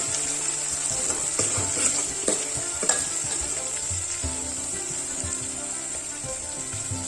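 Chicken curry ingredients sizzle and fry steadily in a pan, a continuous bright hiss broken by occasional stirring scrapes and clinks close by, with no voices.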